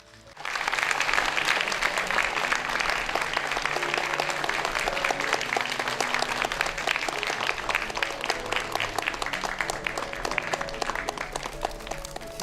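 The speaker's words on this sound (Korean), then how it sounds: "여러분 박수로 환영해 주십시오." An audience at a talk concert bursts into sustained applause to welcome a speaker, a dense, loud wash of clapping that rises quickly and holds steady throughout.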